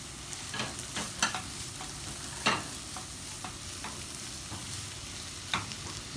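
Onions diced into cubes fry in two spoons of oil in a pan, a low steady sizzle broken by a few louder scraping stirs of the spoon, close with no voices.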